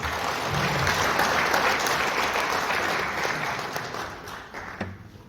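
Audience applause at a business CEO seminar in a hotel hall, a dense steady roar of many hands that holds strong and then slowly fades out.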